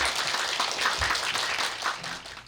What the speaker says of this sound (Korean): 두 분 작가님들을 좀 큰 박수로 맞이해 주셨습니다